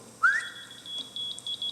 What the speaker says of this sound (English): and the glasses whistle back